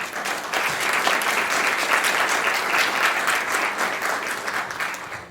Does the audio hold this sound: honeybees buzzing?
no